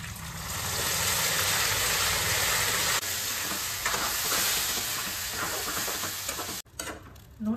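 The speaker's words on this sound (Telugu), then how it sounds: "నూనె పైకి తేలేంత వరకు కాసేపు వేయించుకోవాలి" Masala paste with bay leaf and cumin frying hard in mustard oil for a village-style mutton curry, a loud steady sizzle with stirring scrapes, cutting off abruptly near the end.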